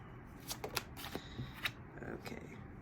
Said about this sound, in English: I'm going to pull 5 cards.